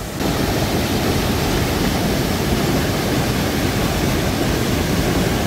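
Small waterfall, about two metres high, in Yumyeong valley at Yumyeongsan, Gapyeong, pouring as a steady, loud, close broadband rush of falling water with no pauses.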